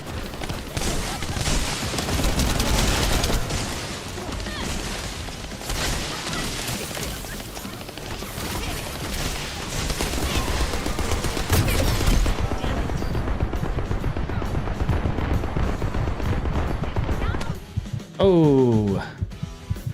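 Video game gunfire and explosions from The First Descendant: dense, continuous shooting and booming action throughout, with voices talking over the loud battle before it suddenly drops away near the end.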